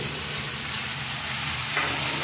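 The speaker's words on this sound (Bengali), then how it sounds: "এখন এর মধ্যে দিয়ে দেবো বেগুন আর ঝিঙে" Eggplant and ridge gourd sizzle loudly in hot oil with other vegetables for a village-style mixed vegetable dish. The dense hiss is continuous and swells briefly near the end as the pan is stirred.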